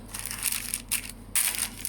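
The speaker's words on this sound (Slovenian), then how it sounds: "In mu dodamo še malo peki papirja" Baking paper crinkling as it is pressed into a buttered baking tin in a home kitchen, a few close, crisp rustling bursts with short pauses between them.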